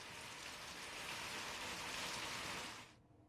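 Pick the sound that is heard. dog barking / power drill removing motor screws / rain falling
rain falling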